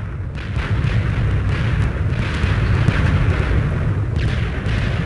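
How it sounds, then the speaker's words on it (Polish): Continuous rumbling booms and crackling blasts of fireworks going off in a video game, loud and dense for the whole stretch with no pauses. "fajerwerki"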